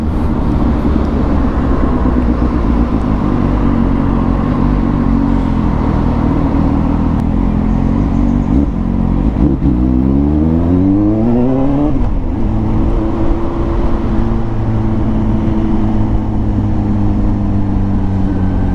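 Suzuki GSX S750 motorcycle riding onto an expressway, loud continuous engine drone with a run of rising and falling rev sweeps mid-way as it shifts through gears, then settling into a steady cruise tone.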